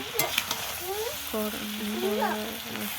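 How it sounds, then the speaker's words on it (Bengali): Sugar cooks in a pan for elephant apple (chalta) pickle, a bright sizzle with a few scraping stirs and some tonal squeaks over it. "10-15 মিনিট চিনিটা ভালোভাবে পাক করে নিতে হবে"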